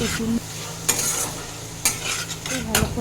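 Shrimp and potatoes sauté with salt, turmeric and chili powder in a hot pan, a steady close sizzle broken by a few sharp scraping stirs of a spatula.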